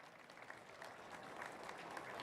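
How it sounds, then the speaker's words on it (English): Audience applause at a North Dakota esports state tournament, a steady wash of many hands clapping at moderate distance, sustained evenly throughout with no voices over it. "One more round of applause for band and Carissa and her team."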